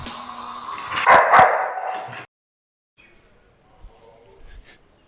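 A dog barks sharply in a short, loud burst mixed with yelping, then the sound cuts out and only faint rustling follows.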